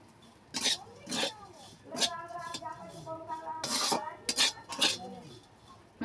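Frying food stirred in a pan, with repeated scraping and clinking strokes of a utensil up close, in short bursts spaced a second or so apart, while a person talks quietly between them.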